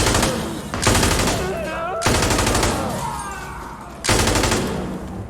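Heavy automatic gunfire from the video game Insurgency: Sandstorm rattles in loud close bursts, three long strings of rapid shots separated by brief gaps, with a shouting voice over it.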